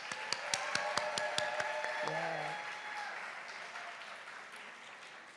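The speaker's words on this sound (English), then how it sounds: "Let's give another round of applause." Applause from the audience at an OMSA Kente donning ceremony, with a few sharp, distinct claps at first that blend into a softer, fading patter, while a voice is briefly heard over it.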